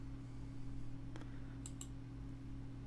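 A couple of faint, close computer mouse clicks, one single and one quick double, set against a low steady electrical hum.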